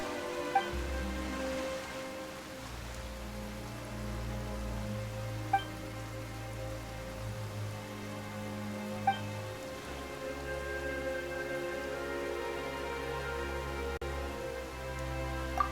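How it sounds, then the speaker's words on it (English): Sudden rain patters steadily on a surface amid a busy, layered game soundscape with sustained musical tones, holding an even level with a few brief sharp drops throughout. "Why is it raining all of a sudden?"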